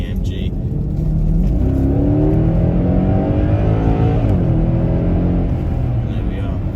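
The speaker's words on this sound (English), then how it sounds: "the noise is of course there, being an AMG." A Mercedes ML63 AMG with a 6.2L V8 accelerates hard, its engine note rising in a loud, steady roar that climbs through the gears, heard from inside the car.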